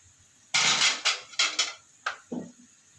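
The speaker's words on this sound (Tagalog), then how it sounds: "punasan natin itong isa kong kawali" Metal frying pan handled and wiped in a home kitchen, giving several close clanks and scraping knocks in quick bursts, then a duller final thud.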